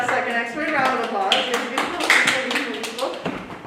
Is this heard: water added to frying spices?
no